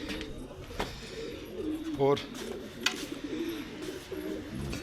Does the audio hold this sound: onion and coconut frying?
no